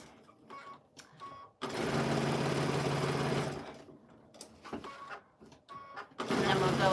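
A sewing machine runs through the final seam of a quilt made from orphan blocks, a loud steady whir in two long bursts separated by quieter handling noise.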